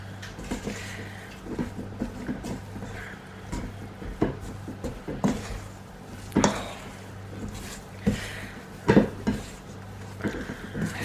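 Cake and icing being mixed together in a bowl for sweet Scotch eggs, giving soft scraping and squishing strokes with occasional knocks of a utensil against the bowl, fairly close and steady, with no talking.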